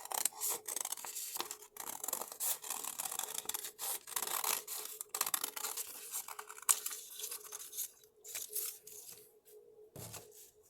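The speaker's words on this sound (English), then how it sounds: "hold the two thicknesses closed and cut both thicknesses together" Scissors cut through two folded layers of paper for a symmetrical collage: steady, close snipping and rasping strokes repeat over ten seconds, fairly quiet, with no voice.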